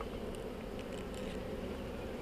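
Honey bees from a nuc hive buzz steadily and close by, a continuous droning hum with no talking.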